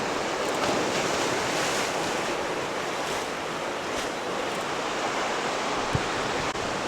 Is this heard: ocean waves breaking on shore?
yes